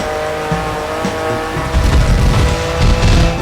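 A race car in the video game Grid Legends roars loudly at close range, with tires squealing and skidding through corners over a constant engine drone.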